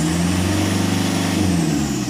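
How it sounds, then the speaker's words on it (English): A car engine revs steadily to around 2000–2500 RPM during an alternator test with the alternator still mounted, giving a continuous close engine drone with no speech. "rev our engine up to 2000 to 2500 RPM"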